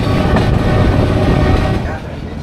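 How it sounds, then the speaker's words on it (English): Vietnam's Reunification Express train rolling along on a long-distance ride, heard from onboard as a loud, continuous rumble with rattling that eases slightly near the end. "This is called the Reunification Express, one of their proudest moments post-war, to show that they're one country."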